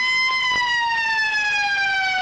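A loud, sustained end-of-game siren wails steadily at an Australian football practice match between Richmond and Fremantle, one long unbroken tone that slowly dips in pitch, with no voices over it.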